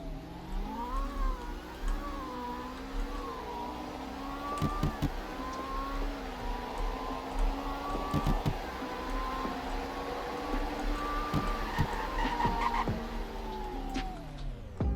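A car in the Greenville game accelerates through a speed test, its engine tone climbing and dropping through several gear changes over about fifteen seconds, steady and close with occasional clicks, no talking.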